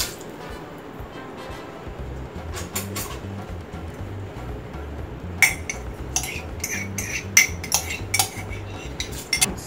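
Washed rice stirred into boiling water in a pot for island pea rice, a low bubbling rumble at first, then sharp spoon clinks and scrapes against the pot in an uneven run toward the end.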